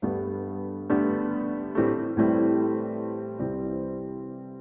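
Piano plays the ending of a song: five full chords with no voices, each struck and left to ring, with a slightly uneven rhythm and a gentle decay at the close.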